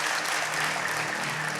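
Spectators at a magic and ventriloquism show in Thrissur clap together in a brief, dense burst of applause, even and continuous from start to finish.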